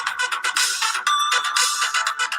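A phone ringtone plays loud and close, a bright repeating electronic melody pulsing steadily on its own.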